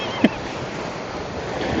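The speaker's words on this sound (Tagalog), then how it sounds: "Ang lakas ng alon, in fairness." Strong ocean waves wash and roar steadily close by, with a brief knock near the start and a wind-buffeted microphone. No one speaks.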